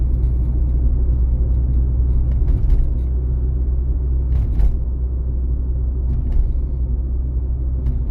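A car travels at a steady 40 km/h in third gear on a city street in Lutsk, giving a continuous low engine and road rumble heard from inside the cabin, with a few faint higher clicks over the drone.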